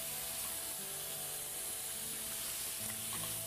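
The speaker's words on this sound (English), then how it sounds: "When the onions and the peppers, the sweet peppers, get into the bacon grease" Onions and sweet peppers fry in bacon grease with a continuous close hiss and faint crackling. Low tonal background music runs throughout.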